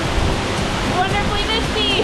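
At Elabana Falls in the rainforest, a waterfall roars in a dense, continuous broadband wash, loud and close, with faint voices mixed into the spray noise.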